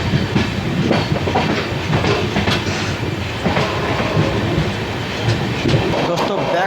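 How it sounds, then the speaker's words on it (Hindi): Gaya–Delhi Amrit Bharat Express pulling out of Jhinjhak station, sounding as a loud, continuous rumble of rolling wagons with rhythmic wheel clatter, heard up close without a pause. "निकल गई गाड़ी भाई झिंझक स्टेशन से।"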